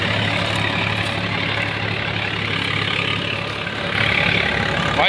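A tractor engine runs steadily at close range with a low rumbling drone, working at a village farm where wheat straw is being made; the drone holds even throughout and swells slightly near the end, with no talk.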